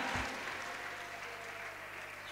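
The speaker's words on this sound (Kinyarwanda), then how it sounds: "reka twibwirize tuyakome, kubera ko amashyi menshi kuri Yesu" Applause for Jesus at a church service, a sustained crowd of clapping hands that holds steady throughout, moderately loud and without speech over it.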